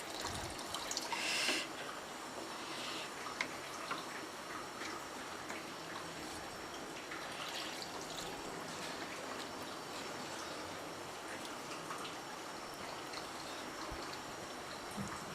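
Water pours steadily into a pot of aloo chicken karahi, a continuous soft splashing and trickling that runs unbroken for the whole stretch with no one talking.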